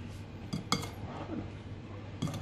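Metal spoon scraping and clinking against a pot while stirring cherry pie filling, several faint light taps and clinks at uneven intervals over a quiet background.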